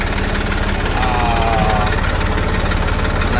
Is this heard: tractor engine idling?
yes